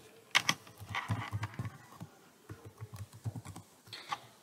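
Rapid clicking keystrokes on a computer keyboard as a username is typed, in short irregular bursts with brief pauses, close and fairly clear, no talk.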